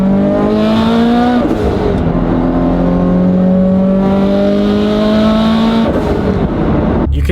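A 1,000 whp Subaru STI accelerating on its lowest 13 psi boost setting, a loud close engine roar climbing steadily through the gears with brief dips at the shifts, no talk.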